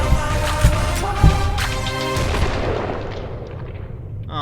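Gunshots ring out in a K-pop music video: a few sharp, booming shots stand out at a steady pace over loud, dense music, and the sound thins and fades toward the end.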